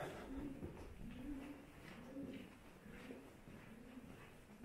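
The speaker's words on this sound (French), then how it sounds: "il y a des pigeons là." Pigeons cooing inside a high-ceilinged underground fortress corridor roughly fifteen meters below ground, soft repeated low coos in a steady rhythm over a reverberant background hum.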